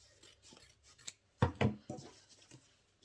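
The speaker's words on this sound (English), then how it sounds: "So I'm going to cut it open also on the other panels, and now cut it open." Scissors snip through fabric panels of a peplum blouse, a few soft rasping cuts with two louder closer snips in the middle, otherwise quiet.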